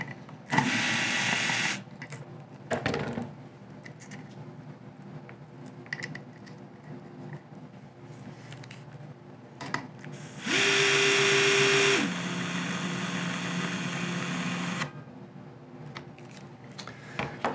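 An Atlas Copco electric fastening tool backing out a bolt and then tightening it, with short bursts of high whining motor, a longer sustained run that steps down in pitch, and quiet handling clicks between.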